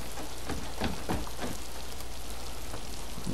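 Steady rain pours down in the video game Miasmata, a constant hiss of drops hitting a surface with a few louder splashes early on.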